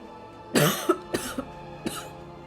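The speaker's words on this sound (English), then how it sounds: "As I start coughing up a lung." Three harsh, chesty coughs close to the mic, the first one heavy and drawn out, followed by two shorter bursts with brief pauses between them.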